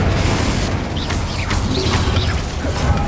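A fire spell cast in a Hogwarts wizarding video game gives a loud, dense mechanical whoosh and rumble that runs the whole time, with a few brief, swooping whistle-like tones over the top.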